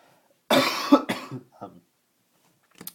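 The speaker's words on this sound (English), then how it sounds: "sorry about that cough" A couple of harsh, close coughs in quick succession, then a short muffled throat sound, with a faint voice at the very end.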